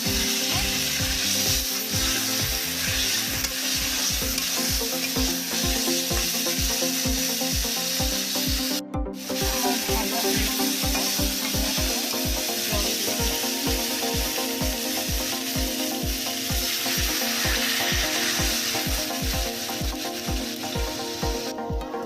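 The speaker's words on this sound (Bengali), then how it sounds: "আমি তরকারিটাকে আবার নেড়ে নেব ভালো মতো।" Fish roe kalia curry stirred in a pan, a steady rapid run of scraping strokes with a faint sizzle underneath, continuous and close for the whole stretch with one brief pause.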